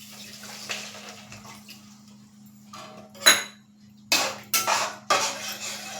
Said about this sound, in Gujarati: હવે આ સ્ટેજ પર આપણે એમાં એક વાટકી દૂધ એડ કરીશું